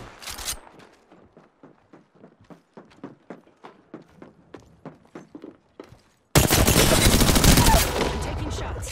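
Gunfire in the battle royale shooter Apex Legends, beginning as a rapid string of distinct close shots or footfall-like impacts, then a dense, loud burst of sustained noise near the end.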